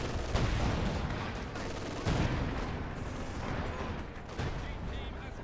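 Chattering machine gun fire in a Company of Heroes 2 battle sped up to double speed, dense crackling volleys and booms layered with muffled game voices in a loud, continuous wartime mix.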